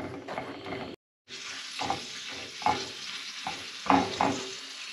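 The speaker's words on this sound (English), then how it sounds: "When the ghee gets heated, add all the nuts and fry it till it turns golden in color." Mixed nuts frying in hot ghee give a steady sizzle, with a short break near the start and repeated stirring scrapes and clinks from a utensil against the pan.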